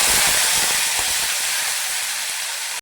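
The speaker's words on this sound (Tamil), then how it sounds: "ஒரு சின்ன தக்காளி வெட்டி வச்சுருக்கேன், அது போட்டுக்கலாம்." Chopped tomato dropped into hot oil with popped mustard seeds while cooking tomato rice gives a loud, steady sizzle and hiss that runs unbroken for about three seconds, with no talking.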